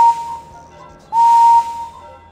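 Steam engine whistle for the engine Edward in a Thomas & Friends PC video game: two clear whistle blasts, one short and one longer, loud and close over a quiet background.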